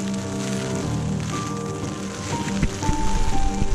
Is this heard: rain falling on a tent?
yes